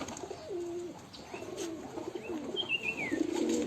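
Pigeons coo in soft repeated throaty phrases from a loft, fairly close but quiet, with a few higher chirps mixed in and no talk.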